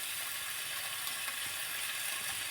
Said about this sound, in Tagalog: Gisa-gisa ko lang yan sila.